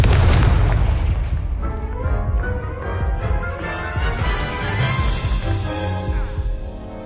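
A Confringo blasting spell bursts in Hogwarts Legacy with a loud, close boom up front, then a rumbling, crackling tail that stays dense and rolls on for several seconds.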